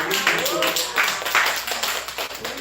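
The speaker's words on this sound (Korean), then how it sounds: "박수 부탁드립니다" Scattered audience clapping in a Korean vocational school class, a few bursts of claps mixed with a voice talking over them.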